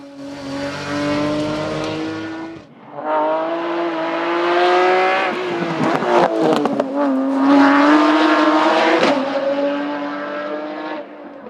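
A Midjet Super Tourisme race car with a 3.5-litre Nissan V6 screams up a hillclimb course, engine loud and close, revving hard through gear changes with brief lifts and tire noise.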